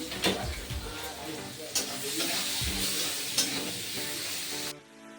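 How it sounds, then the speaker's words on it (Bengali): Onions sizzle in hot oil in a pan for an egg curry, a steady close crackle with occasional stirring scrapes, dropping to a quieter hiss near the end. "ওই তলার মধ্যে আমি দিলাম পেঁয়াজ"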